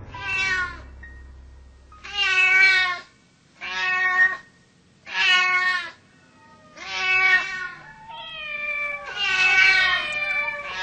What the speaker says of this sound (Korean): 어둠이 내리면서 사방에서 고양이 울음소리가 들려왔다.